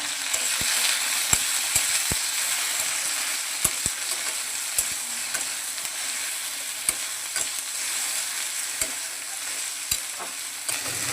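Chopped okra frying in hot oil with red dried chillies and nigella seeds, a continuous loud sizzle broken by repeated sharp clicks of a spatula stirring the pan.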